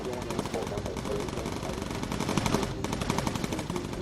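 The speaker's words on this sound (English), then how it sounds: "Fire incendiary ammo." Rapid, sustained machine-gun fire of incendiary rounds from a bomber's guns in the Bomber Crew video game: a dense, loud, unbroken rattle running the whole time, with a voice speaking over it.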